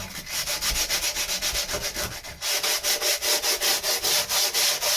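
A power sander works the wood of boat lockers with a steady rhythmic rasping, pulsing in regular strokes. Loud and close, it pauses briefly midway and then resumes.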